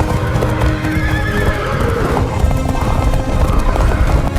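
A herd of horses gallops in a dense, continuous rumble of hooves. Shrill neighs and whinnies rise over the pounding throughout, with no break in the noise.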